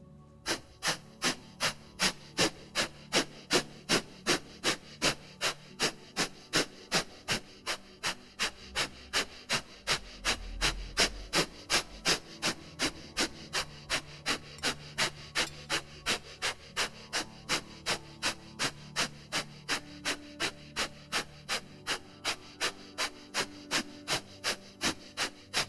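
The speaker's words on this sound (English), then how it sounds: "this is also known as the skull cleansing breath" Skull-cleansing yoga breathing: a long run of sharp, quick exhales at a steady, fast rhythm, close and even, with soft music in the background.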